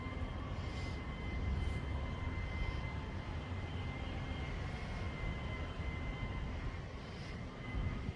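Strong wind roars steadily outdoors during a wind advisory, a dense low rumbling rush with gusty swells, fairly close and continuous with no voices.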